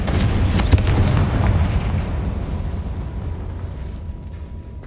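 A Confringo fire spell bursts in the video game Hogwarts Legacy, a loud booming explosion near the start that fades into a long rumbling tail with low crackle.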